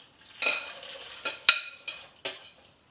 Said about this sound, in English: So now I'm going to put these veggies into the broth.